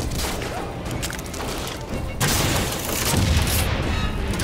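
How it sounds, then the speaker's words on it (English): Gunfire and heavy booms in the video game Bioshock Infinite, a dense run of crashing impacts and shots that grows louder after a sudden burst midway, with no talk over it. "who's shooting at me?"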